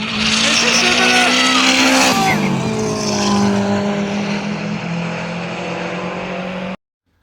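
A Subaru WRX STI engine roars loudly at high revs at a car meet, pitch climbing and dropping through gear changes, with tire noise and a voice under it, cutting off abruptly.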